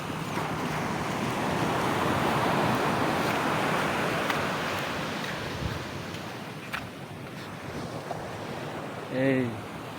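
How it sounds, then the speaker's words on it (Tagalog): Sea surf rolls steadily along the Bicol coast, a broad continuous wash mixed with wind buffeting the microphone, with a brief voice near the end. "Yung dagat"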